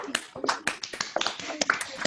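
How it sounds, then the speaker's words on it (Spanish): Participants in an online meeting give brief, scattered applause, a patter of uneven claps from several people heard through a call connection, with voices speaking over it. "Vamos a agradecer y despedir a Ricky con un aplauso"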